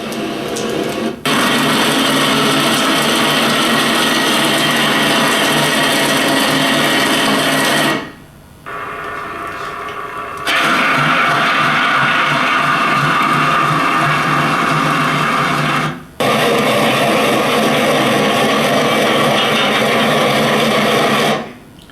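The underwater acoustic signature of a roll-on roll-off freighter ship, recorded by a submarine, forms a loud, grinding, machinery-like drone with steady tonal hum. It is broken by a quieter stretch and brief cuts between long sustained sections.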